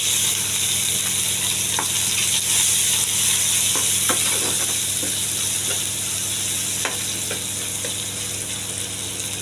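Chopped onion sizzles steadily in hot oil with cumin seeds, a dense continuous frying hiss broken by occasional clicks of stirring, close and fairly loud with no voices.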